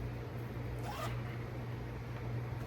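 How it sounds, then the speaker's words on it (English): A short zipper run on the back pocket of a Dooney & Bourke Tartan Bitsy bag gives one brief, quiet rasp close up, with faint room noise around it. "The zipper works fine."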